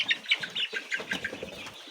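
Layer chickens clucking and squawking while being caught, with rapid repeated calls and some wing flapping, close and busy over two seconds.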